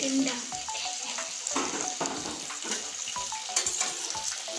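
Mixed summer vegetables and potatoes frying in a pan, a loud continuous sizzle with repeated stirring scrapes and clatters of a spoon against the metal.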